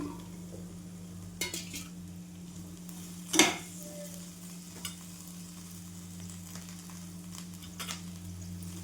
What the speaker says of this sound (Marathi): हे पण छान परतून घेऊया